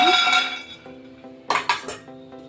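Spoonfuls of peanuts for a mushroom masala curry go into a metal pan, giving a few bright, close clinks and rattling scrapes of spoon against pan in quick succession.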